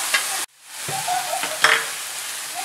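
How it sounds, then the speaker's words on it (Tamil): Onion, tomato and ginger-garlic paste sautéing in a pan, a close steady sizzle with stirring scrapes, briefly cut to silence before the frying hiss returns. "தக்காளி, இஞ்சி பூண்டு பேஸ்ட் எல்லாம் நல்லா வதங்கிருச்சு."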